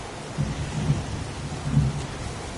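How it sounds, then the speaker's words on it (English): Heavy rain pours steadily in a video game, with rolling thunder rumbling through it in two low swells. "It's pouring rain."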